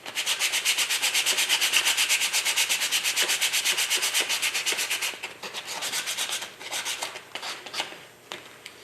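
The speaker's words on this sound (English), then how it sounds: "The end grains, however, will be seen, so you want to kind of sand those off pretty good." Rapid rhythmic back-and-forth rasp of sandpaper on the end grain of a wooden picture holder, steady for several seconds, then slowing into irregular, fainter strokes.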